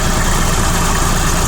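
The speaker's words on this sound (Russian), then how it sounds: "прекрасно слышно, что состояние мотора просто идеальное, потому что, прям трактор шепчет" Engine of a Kubota GL-19 tractor with about 940 operating hours idling steadily, a quiet, even, continuous running hum with no misfires or knocks, alone without voices.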